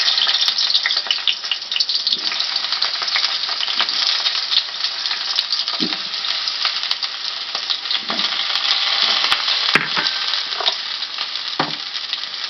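Small-cut eggplant pieces fry in hot oil for a neem and eggplant chechki, giving a steady, dense sizzle throughout with occasional soft stirring scrapes and light clicks, close and fairly loud with no talking.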